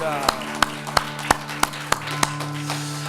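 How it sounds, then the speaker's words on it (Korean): A church congregation in worship claps in unison, seven loud, evenly spaced claps about a third of a second apart, then fades out over a sustained organ or keyboard chord. "하나님께 영광의 박수를 올려드립니다"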